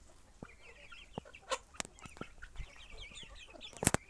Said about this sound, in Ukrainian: Ось такі наші вже курчатка великі.